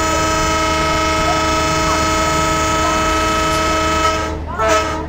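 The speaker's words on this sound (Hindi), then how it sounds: "चलो यार ये वाला हॉर्न बजा देते हैं।" A long train horn blast from a Jan Shatabdi Express locomotive in Train Simulator 2022, a loud sustained multi-tone horn chord over engine rumble, cutting off near the end as a brief voice is heard.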